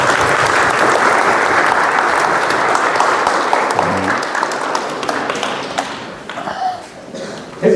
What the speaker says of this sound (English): So let's welcome His Grace Radhe Shyam Prabhu by loudly clapping